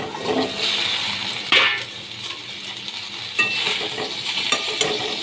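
Taro pieces hit a hot pan with cumin and coriander powder and start to fry, giving a loud, steady sizzle with stirring scrapes and a couple of sharper bursts, close and without any voices.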